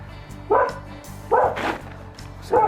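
A dog barks three times in evenly spaced, loud, close bursts outdoors at a vegetable garden during an autumn tidy-up, over a steady low mechanical hum.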